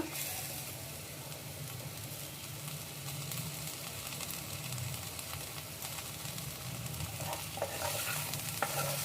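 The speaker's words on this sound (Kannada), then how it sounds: "ಕೊತ್ತಂಬರಿ ಹಾಕೊಂಡು ಒಂದ್ಸಲ ಮಿಕ್ಸ್ ಕೊಡಿ ಅಷ್ಟೇ" Raw banana dry stir-fry being stirred in a pan with coriander, giving a continuous sizzle and frying hiss with scraping stir strokes throughout, close and fairly loud, with no voices.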